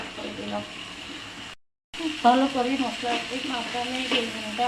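Eggplant sizzling and crackling in hot oil in a home kitchen, a steady frying hiss with stirring scrapes, briefly dropping out to silence before resuming, close and fairly loud.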